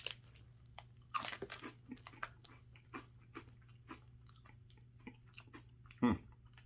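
Someone chewing a crunchy cheesy Cheeto snack close to the microphone, with faint repeated crunches and bites over a low hum, a brief louder crunch near the end.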